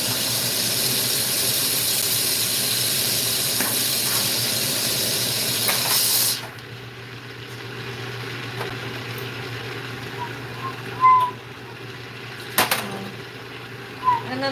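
Steady broad hiss of a glassblowing torch flame for about six seconds, close and loud, then cutting off to a quieter room with a few light clinks.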